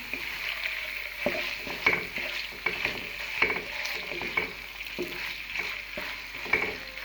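Chicken sizzles and crackles in a hot wok while a spatula scrapes and clinks against the metal in irregular strokes, steady and close.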